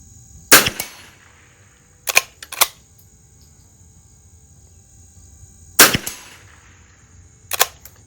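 A 1931 first-year Winchester model 61 .22 rifle fires at an AR500 steel plate, with sharp, crisp reports, some quickly followed by a metallic ring from the hit, five shots spaced irregularly with quiet gaps between.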